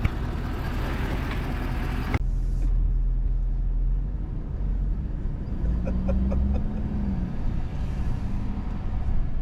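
A Ford dually pickup truck driving, a steady low engine rumble with road noise from inside the cab, close and continuous after a brief opening burst.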